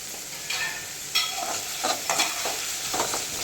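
Mutton masala fries in a pan with onions, tomato and ginger-garlic paste, a steady close sizzle broken by repeated scraping strokes of a spoon as the mixture is stirred.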